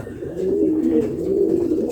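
A pigeon coos nearby in low, throaty, rolling tones, sustained over a couple of seconds without any talking.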